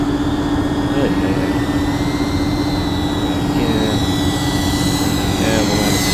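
An FPV drone makes a night flyby, with a continuous high-pitched propeller whine and buzz that stays loud and steady and swells slightly as it passes.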